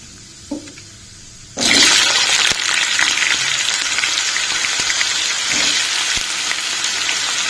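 Cut potato pieces, which had been soaking in water, drop into hot oil with tempering for an Aloo 65 curry. After a moment of quiet, a loud, sudden sizzle bursts up and keeps hissing strongly, and faint stirring taps sound over it.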